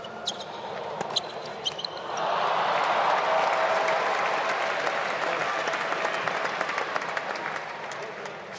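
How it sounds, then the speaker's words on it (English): Loud crowd applause and cheering at the 2023 United Cup tennis final between Fritz and Berrettini, with a big Italian contingent; a steady roar swells in after a couple of seconds and carries on throughout, with scattered claps and calls. "The crowd is so loud here."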